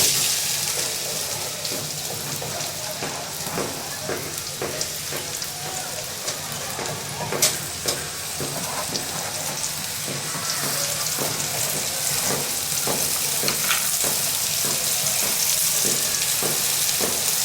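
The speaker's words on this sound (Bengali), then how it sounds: "পেঁয়াজ একটু ভাজবো" Thinly sliced onions frying in oil in a pan give a dense, continuous crackling sizzle, close and fairly loud, with faint rhythmic stirring taps running through it.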